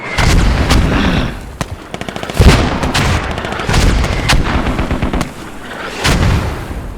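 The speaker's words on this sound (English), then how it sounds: "a lot of mortars just pounding this area" Mortar rounds pound an area in a tactical military shooter, with repeated heavy booming impacts and crackling gunfire layered throughout, loud and dense without pause.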